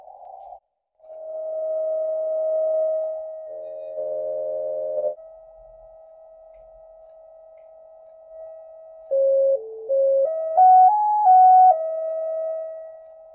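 A QRP Labs QCX+ radio receives CW tones through its speaker, a clean steady sine tone held for several seconds, then short stepped tones shifting in pitch, moderately loud and without voices.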